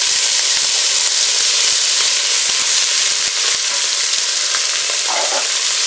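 Chopped onion and celery sauté in a Ninja Foodi on its high setting, producing a continuous, even sizzle and hiss close up, with a few light clicks near the end and no voices.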